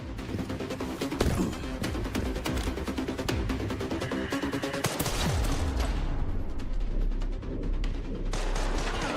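Video game gunfire fills the clip, with rapid bursts of automatic fire and dense overlapping shots, loud and sustained, fighting around scaffolding.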